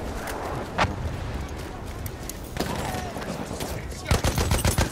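Shotgun blasts and other gunfire in the video game Battlefield 1, several sharp loud reports spaced through the clip with a cluster near the end, under a player's voice.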